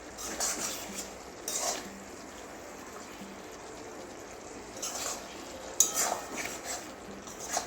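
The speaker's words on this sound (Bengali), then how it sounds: "ভালো করে মিশিয়ে দিলাম গরম মশলাটা" Spoon scraping and stirring garam masala into a bitter gourd and potato curry in a pan, a few distinct clinks of utensil on metal amid soft intermittent scraping, close and moderately quiet.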